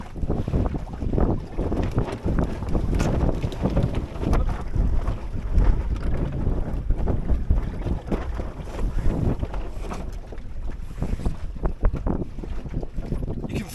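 A Drascombe Lugger sailboat under full sail runs through the wind, with constant gusty wind buffeting and water rushing and slapping against the hull, loud and continuous with no talking.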